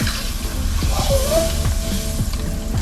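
Butter sizzling on a hot griddle while breakfast omelette ingredients are prepared, a steady crackling hiss with faint clinks and a brief squeaky scrape, no talking.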